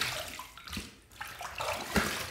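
Water running from a tap as a shaving razor is rinsed under it, a steady close splashing rush that shifts as the blade moves through the stream.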